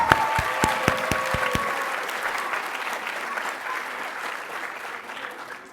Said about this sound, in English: Can we get a round of applause for all the moms here today?